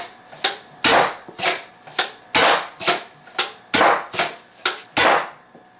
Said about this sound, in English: Just be firing off 4 darts for you.